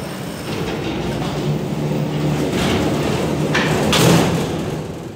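A Schindler hydraulic freight elevator motor hums in a steady, loud, close rumble, with a couple of brief clanks from the car.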